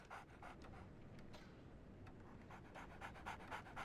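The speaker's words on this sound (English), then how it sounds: "It sounds like a dog is panting." A dog pants in the video game Sherlock Holmes The Awakened, with quick, rhythmic breathy pants repeating steadily. The panting is soft and close and has no speech over it.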